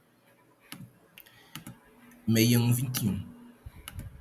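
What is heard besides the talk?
typing hexadecimal bytes on a computer keyboard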